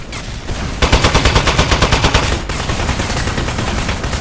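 Rapid automatic fire from a turret gun in Aperture Desk Job, loud and close, starting abruptly after a quieter opening and pulsing in a steady burst that carries on to the end.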